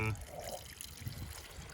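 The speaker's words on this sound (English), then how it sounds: "take this thinner sieve, put it over the container, and just pour" Alcohol is poured through a fine sieve into a container during a varroa mite test on bees, making a faint, steady trickling under a noisy background.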